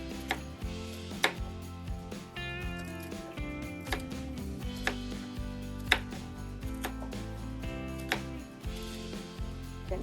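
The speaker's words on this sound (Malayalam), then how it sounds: "ഒരു 4 ബീൻസ് എടുത്തിട്ടുണ്ട്. അത് ചെറുതായിട്ടൊന്ന് കട്ട് ചെയ്യാം." A knife chops green beans into small pieces for a paneer biryani, making sharp, close cutting taps at an unhurried, uneven pace over steady background music.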